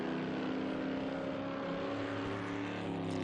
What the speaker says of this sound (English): the Cooper Monaco from 1962. In the number 57, powering his way up the hill. Beautiful sound,